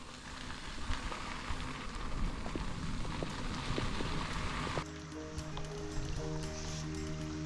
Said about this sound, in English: I know the forecast said it wasn't supposed to rain, but my take is that it's raining.